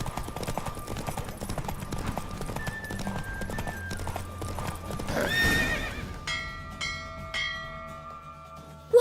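A horse in The Witcher 3: Wild Hunt gallops with rapid clip-clop hoofbeats under a game music score, then lets out a loud whinny midway before the hoofbeats fade amid ringing tones.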